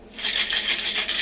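A metal cocktail shaker full of ice is shaken hard for a lemon drop martini, giving a steady, loud rattle of ice against metal in quick rhythmic pulses with no talking.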